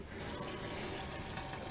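Water runs from the sink faucet of a 1999 Dodge Xplorer 230 XLW Class B camper van, a soft steady splashing flow that starts abruptly and continues faintly and evenly.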